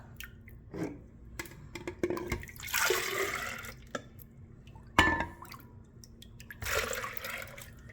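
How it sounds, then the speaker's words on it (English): Tamarind juice splashes and gurgles into a pitcher in two pouring bursts, mixed with drips and clinks against the container. "I'm just going to gently pour it into this pitcher"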